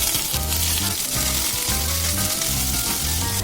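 Ginger and garlic paste sizzle in hot oil with whole cloves and black peppercorns while a chicken curry is cooked, a steady close crackling fry with occasional stirring scrapes.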